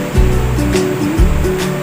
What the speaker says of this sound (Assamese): এয়া হৈছে কাৰ্বি আংলং জিলাৰ অন্তৰ্গত টকলাংচু জলপ্ৰপাত